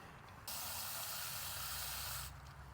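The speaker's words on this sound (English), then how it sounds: "we'll spray it through again" A steady, loud hiss from an Earlex 6700 paint sprayer runs for about two seconds, starting and stopping abruptly, with a faint mechanical hum underneath.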